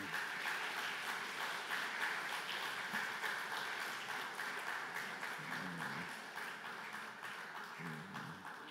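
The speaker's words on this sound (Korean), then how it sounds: "박수로 환영하겠습니다." A church congregation claps in welcome for a family with a baby coming forward during a Sunday service, steady sustained applause filling the room at moderate distance, thinning slightly toward the end, with faint murmurs underneath.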